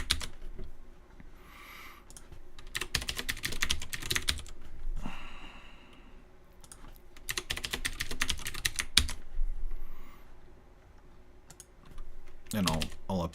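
Bursts of rapid keystrokes on a computer keyboard, clattering in several dense runs separated by short pauses, fairly close and alone with no talking over them.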